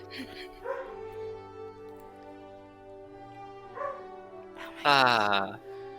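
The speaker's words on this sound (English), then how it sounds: "the lovable puppers barking in the background, as always" Dogs barking in the background of a home tabletop role-playing game session, a few faint scattered yips and barks, then one louder bark near the end, with people talking throughout.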